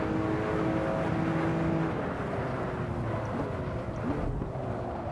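A Porsche 911 Turbo S in the Assetto Corsa racing game drops engine pitch under braking, a loud continuous whine and tire roar sliding downward as the car slows, with no talk.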